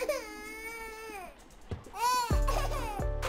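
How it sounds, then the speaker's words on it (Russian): An infant cries in the horror video game Baby in Yellow, a wailing, pitched cry that rises and falls over a few seconds, close and loud, with a brief pause before a strong renewed burst. "Ребенок. Он орёт."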